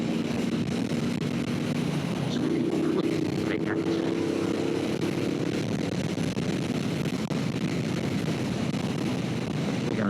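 A 2026 Triumph Bonneville Bobber motorcycle engine drones steadily and close, with a low rumbling tone that rises slightly as it accelerates, wind noise washing over it throughout.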